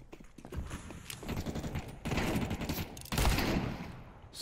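Gunfire in Counter-Strike 2, including revolver and shotgun shots, comes as bursts of sharp reports, with two heavy volleys around the middle and end of a steady noisy background.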